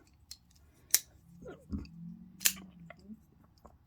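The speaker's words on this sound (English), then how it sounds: "Awesome action for a folding knife." A QSP Leopard folding knife is opened and closed, giving a few sharp metallic clicks and snaps spaced over a few seconds, close and crisp against a quiet background.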